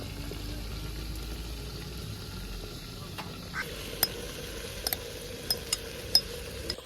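Spiced potato, cauliflower and onion go into a hot pan and get stirred, giving a soft, low sizzle with a few sharp spoon clinks against the pan toward the end.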